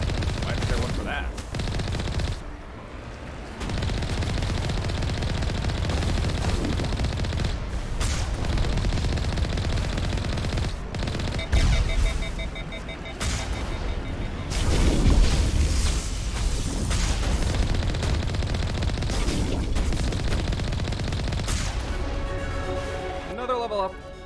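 Main cannon of the player's vehicle firing in Mass Effect, booming shots amid constant loud gunfire and explosions, with dense game noise throughout and a person talking over it.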